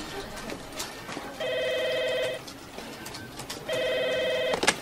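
A telephone rings with an incoming call to a Japanese radio show studio, two bursts of electronic ringing separated by a pause, clear and close over faint background studio sound.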